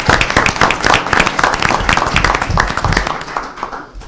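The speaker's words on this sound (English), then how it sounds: "How about a round of applause for this gentleman?" Audience applause at a city council meeting for a restaurant owner: dense, steady clapping from a room full of people, sustained for a few seconds before tapering slightly at the end.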